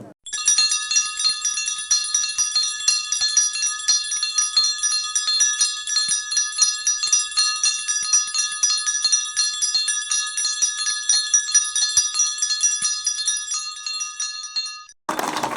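A peace bell rings continuously with a bright, shimmering metallic tone, sustained for several seconds before cutting off abruptly.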